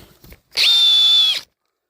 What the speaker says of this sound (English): let's go for drill mode